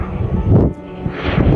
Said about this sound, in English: I see an aeroplane.